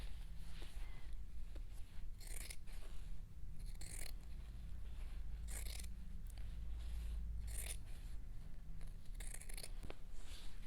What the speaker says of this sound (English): we're going to trim the seam allowance down to about 1/8 of an inch just to reduce the bulk